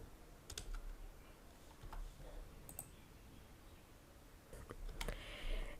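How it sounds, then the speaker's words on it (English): A mobile number being entered on a computer keyboard: faint, scattered key clicks in small clusters over a quiet, hissy room background. "select here your country and enter here your mobile number"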